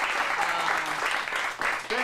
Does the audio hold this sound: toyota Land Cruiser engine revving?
no